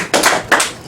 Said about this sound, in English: Brother Jesse, let's give him a round of applause.